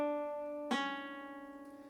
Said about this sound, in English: Our descending slur is our pull-off and sounds like this.